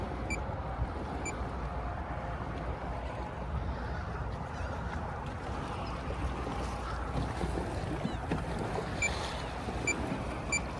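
Haswing 55 Cayman electric trolling motor driving a skiff on open water, a steady broadband whir and wash under wind buffeting the microphone, continuous and fairly loud throughout.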